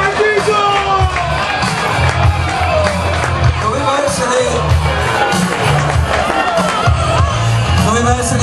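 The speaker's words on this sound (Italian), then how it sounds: "un applauso" An outdoor event crowd cheers loudly with whoops and shouts, some children's voices among them, in a continuous noisy roar, while deep pulsing bass music thumps underneath and lively voices mingle throughout.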